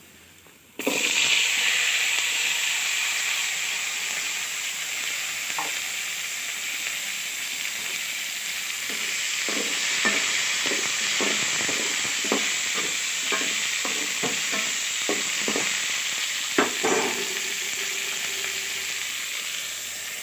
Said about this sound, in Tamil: இப்போ இதுலேயே கேரட்டை போட்டுடலாம்